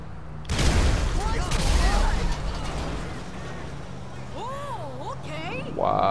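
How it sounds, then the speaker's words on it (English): A loud explosion in Grand Theft Auto V during a chase with a stolen police car hits with a sudden blast, then a long rumbling, crackling roar as it fades, with whooping and excited voices rising over it. "Was the craziest explosion."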